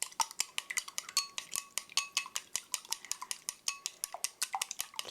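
Eggs with salt for pear fried rice, yolks broken and being beaten in a bowl: rapid, even metallic clinks of a utensil against the bowl, close and crisp, with no talk.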